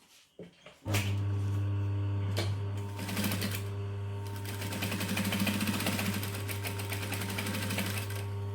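A sewing machine stitches dress straps for the Lola pattern from Swoon Patterns, running in a steady continuous whir with rapid needle ticking after a brief handling noise at the start, close and alone.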